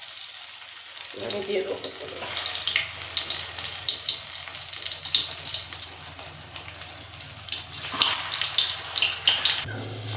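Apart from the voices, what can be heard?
pointed gourd (potol) deep frying in hot oil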